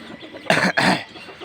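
Chickens kept for droppings used as plant fertilizer cluck nearby, with two loud close bursts in the middle over quieter background clucking.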